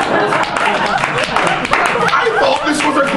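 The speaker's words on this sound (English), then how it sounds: "Give me a round of applause." An audience claps and chuckles for a few seconds, a dense patter of applause mixed with laughter and voices from the crowd.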